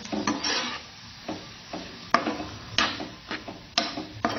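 Freshly added amaranth greens (chavli bhaji) stirred in a pan with a spatula, close repeated scraping and knocking strokes in an uneven rhythm with soft sizzling underneath.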